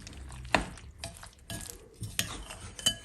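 Three whole eggs being whisked into a batter in a bowl, faint clinks and scraping strokes of the utensil against the bowl, a few sharper taps spaced out over a few seconds.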